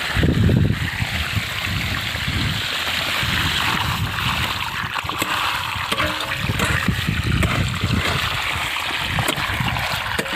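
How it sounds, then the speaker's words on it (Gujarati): Irrigation water gushes and splashes steadily and loudly through a pipe to trees on a farm, a continuous rushing flow close by with no break. "હવે ઝાડવા ઝાડવામાં પાણી જાય છે"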